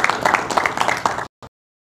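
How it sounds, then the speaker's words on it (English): Audience applause for two debate participants, a short burst of dense clapping that cuts off abruptly, followed by one brief trailing clap. "Can we get a round of applause for our 2 participants?"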